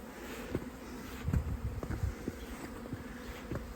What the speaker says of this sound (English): These bees are rolling.